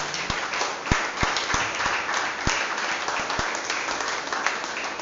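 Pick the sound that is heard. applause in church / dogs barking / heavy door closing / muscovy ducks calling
applause in church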